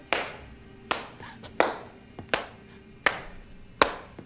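Slow clapping by Paul in the 1998 film Urban Legend, six sharp, distinct claps spaced evenly about two-thirds of a second apart, close and alone in a quiet room.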